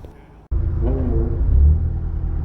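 A Mazda Miata set up for autocross, fitted with many vents, at the Pikes Peak International track. The engine bursts in abruptly and then holds a loud, close, low throaty rumble that swells slightly toward the end.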